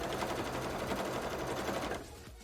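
A sewing machine stitches fabric close to the edge for a jellyfish bra, a fast rattling run that stops abruptly near the end and leaves only quiet.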